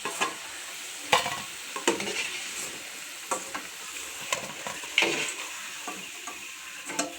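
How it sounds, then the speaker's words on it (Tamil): Oil sizzles steadily as chicken vada fries while a utensil stirs and scrapes the pan in scattered, irregular clinks. "இப்போ வடை எடுக்க போகிறோங்க."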